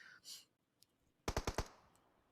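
Burst of four rapid gunshots from the mobile battle royale game PUBG Mobile during a professional tournament match, loud and sharp in quick succession, preceded by a brief whoosh and faint clicks.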